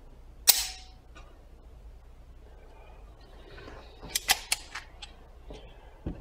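Smith & Wesson 22A .22 pistol making one sharp shot near the start, then a few faint small clicks and a quick cluster of snappy transients later, alone at close range with low background hum.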